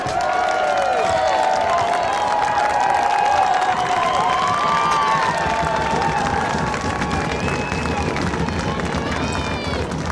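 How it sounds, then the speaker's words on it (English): Stadium crowd cheering and applauding at a high school soccer state final, Mason versus Grand Rapids Christian, a steady loud roar of many voices with shouts rising over it throughout. "As you're hearing the applause is"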